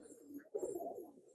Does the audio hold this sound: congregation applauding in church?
no